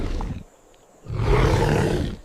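A deep roar stands in for a saber-toothed tiger, an extinct meat-eating ambush hunter: a rumbling growl that drops off, a short near-silent pause, then a louder, broader sustained roar close up with no talk.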